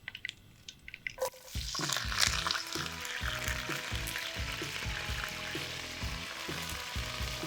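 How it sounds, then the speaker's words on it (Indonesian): Sliced shallots with curry leaves, lime leaves and pandan leaves drop into hot oil for Acehnese cooking, starting quiet and then bursting into a loud, steady sizzle and crackle with occasional stirring clinks. "Kita tunggu minyaknya panas dulu, lalu kita masukin bawang merah yang sudah kita rajang, juga daun temurui, daun jeruk, dan daun pandan."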